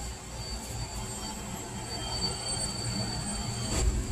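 A refrigerator compressor motor runs quietly during a repair check on a unit that is not cooling and whose compressor is overheating. It gives a steady low hum with a faint high whine and no talk over it.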